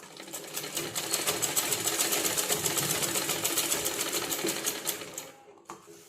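Sewing machine stitching a folded quarter-inch sleeve hem, a rapid steady rhythmic clatter of the needle running continuously for about five seconds before stopping, close and alone.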